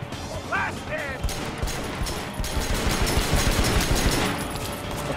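Rapid bursts of gunfire from the video game Triad Wars crackle densely and loudly throughout, with someone briefly talking over the shooting near the start.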